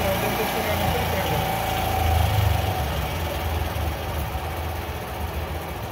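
A warm two-wheeler engine idles steadily at around 1450 RPM while its RPM screw is adjusted, a continuous low putter with a brief swell in the middle, heard under a man's speech.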